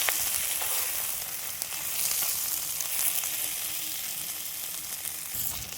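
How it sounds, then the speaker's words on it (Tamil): Chicken masala sautés in a pan for a village-style chicken fry, with a continuous, even sizzle and hiss that stays close and steady throughout, with no talking. "இதை நல்லா மசிகிற வரைக்கும் நல்லா வதக்கிக்கலாம்"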